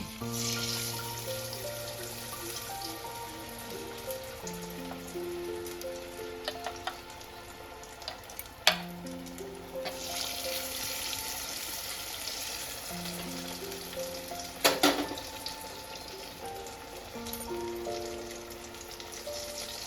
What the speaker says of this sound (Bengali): এই গোলায় চপগুলো ডুবিয়ে এইভাবে আমি ভেজে নেব।